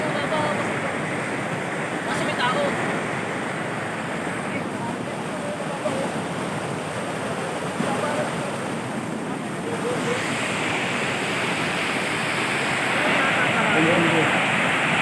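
River water rushing in a continuous broadband roar where people are swimming, steady and close throughout, with wind buffeting the microphone and voices faintly beneath.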